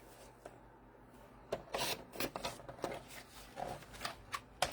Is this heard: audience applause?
no